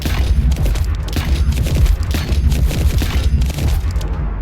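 Shotgun blasts in the sci-fi shooter game The First Descendant, a rapid string of loud, punchy booms with short gaps between shots, close and forceful throughout.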